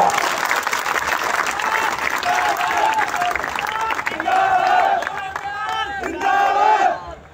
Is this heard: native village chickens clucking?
no